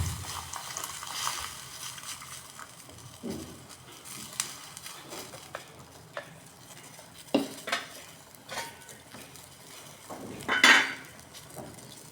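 Boiled cabbage water is poured into a pot of rasam in a home kitchen, a soft, faint liquid pour with scattered clinks of utensils and a short splash near the end, with no talking.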